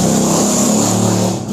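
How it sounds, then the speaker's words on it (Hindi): A car passes outside a room, a loud, close rumbling engine sweep that holds steady then begins to fade at the end. "सॉरी अगर आवाज़ आ गई हो कोई गाड़ी की"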